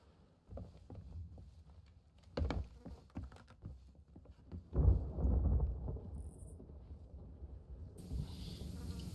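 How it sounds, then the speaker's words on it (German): Thunderstorm at sea in the pirate game Sea of Thieves: low rumbling thunder rolls in, building to a heavy, loud roll midway, with a faint hiss of rain or wind later. "Ach, das ist Gewitter."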